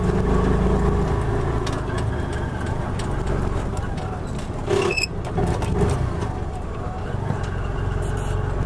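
The engine of a 2020 Piaggio Ape City Fi three-wheeler drones loud and close throughout, with a continuous mechanical rattle and small surges in pitch.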